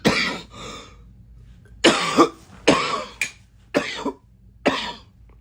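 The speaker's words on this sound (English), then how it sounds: "I can't get rid of this cough." A series of harsh, raspy coughs, about six bursts in short succession, close and fairly loud with brief gaps between.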